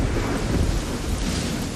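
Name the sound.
tropical thunderstorm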